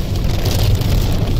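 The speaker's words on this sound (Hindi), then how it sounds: "आप देखेंगे बहुत ही कड़ाकेदार बारिश हो रही है" A heavy downpour in Malaysia, a dense, continuous hiss of pouring rain, loud and close with a low rumbling undertone.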